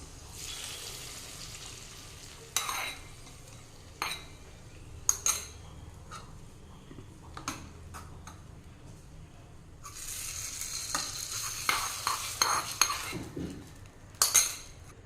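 Fried cashews and raisins being stirred in a pan give scattered metal scrapes and clinks of a spoon against the vessel, close but fairly soft, over a quiet low background with a light sizzle, busiest toward the end.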